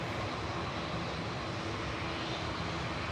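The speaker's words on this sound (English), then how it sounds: "Ryanair operated by Malta Air in front of us, going to Verona, 9HQDT." A Ryanair jet operated by Malta Air, bound for Verona at Manchester Airport, fills the air with a constant dense engine roar, close and unbroken, with no voices.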